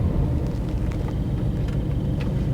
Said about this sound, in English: hearing an audacious V8 roar from the BMW M3